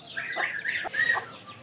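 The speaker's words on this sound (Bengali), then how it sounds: "এই যে আমাদের মোরগটা" Clucking and short calls from a rooster kept in a cage on a rooftop alongside pigeons, ducks and fish, a few close vocal bursts in quick succession.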